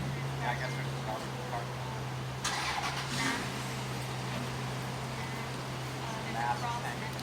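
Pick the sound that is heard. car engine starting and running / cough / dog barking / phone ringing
car engine starting and running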